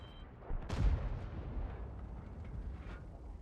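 The Rinoceronte warship's guns fire in a naval video game: one heavy, booming salvo followed by a long decaying rumble and a few fainter distant pops.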